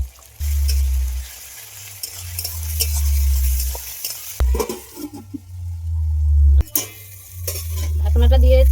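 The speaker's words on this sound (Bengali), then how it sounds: "মশলাটা ভাজা হয়ে গেছে, এখন এর মধ্যে পেস্ট করা টমেটোটা দিয়ে দিলাম" Spice paste with tomato paste and ground cumin is being fried for a katla fish chilli dish. A loud, close sizzle runs with repeated spoon stirring and scraping in the pan, and there are a few clinks.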